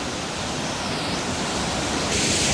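A small waterfall of cold spring, snowmelt and rain water pours into a river along the Appalachian Trail. It makes a steady, close, full rushing hiss that grows slightly louder toward the end, with no voices.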